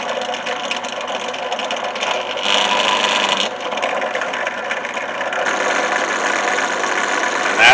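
A sewing machine stitches through the top three layers of a leather lanyard knife sheath, giving a steady, close mechanical whirring drone that swells slightly partway through and runs without pause.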